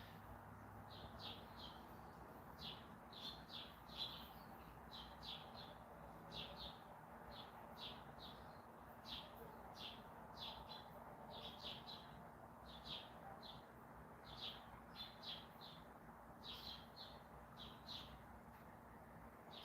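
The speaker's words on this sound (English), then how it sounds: "So nice, the birds chirping" Faint outdoor birdsong with small birds chirping in quick, repeated bursts. A low, steady background hum runs underneath.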